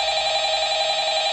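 A telephone rings in the horror game Five Nights at Freddy's, a steady, loud, unbroken electronic ring lasting the whole moment, with no talk over it.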